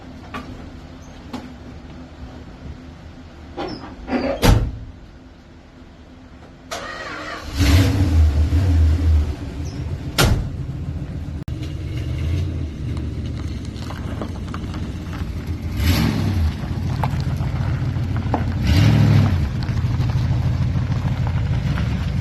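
A 1966 Plymouth Fury starts up and drives around the block, with a few knocks and clunks before the engine catches, then a steady mid-pitched rumble rising with throttle, close and loud.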